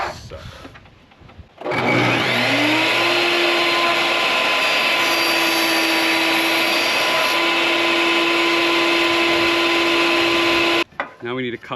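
A power saw spins up after a brief pause and cuts through a workpiece for about nine seconds, a loud steady whine with a sustained tone that stops abruptly, followed by a short clatter.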